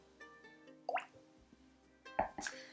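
Water added drop by drop into a Luigi Bormioli whisky glass for a Spirit of Yorkshire Filey Bay whisky tasting, giving two or three soft, close plinks and drips over a quiet, faintly humming room.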